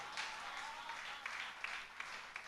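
Audience applause at a Hindi kavi sammelan poetry recital, a steady spread of many hands clapping at moderate level with a few louder bursts throughout, no speech over it.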